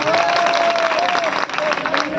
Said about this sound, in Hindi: जरा जोरदार तालियां बजाइए मेरे भाई